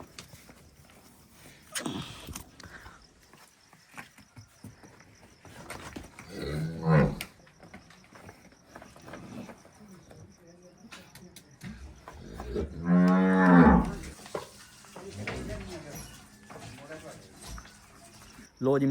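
Water buffaloes in a village cattle shed at evening milking time let out two loud, drawn-out moos several seconds apart, with people talking nearby.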